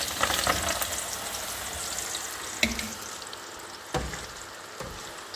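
Garlic frying in hot oil, a dense crackling sizzle near the pan with a couple of sharp clanks of a utensil, settling slightly quieter toward the end.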